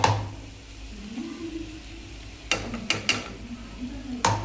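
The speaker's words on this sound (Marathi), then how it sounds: "आता शिजली आहे भाजी, फक्त त्याला मिक्स करून घ्यायचं आहे शेंगदाण्याचं कूट" A spoon stirring cooked vegetables mixed with crushed peanuts in a pan over a low gas flame, with a gentle sizzle underneath and several sharp scraping clanks of the spoon against the pan.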